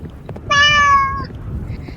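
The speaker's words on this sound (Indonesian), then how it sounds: "Dia baru saja mengeong." A cat gives one loud, clear, drawn-out meow lasting under a second, close by, over a low background rumble and then quiet.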